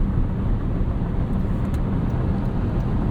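Cabin noise from a 2023 Toyota bZ4x Limited AWD electric car driving at night in cold weather, a steady low road and tire rumble at an even level throughout.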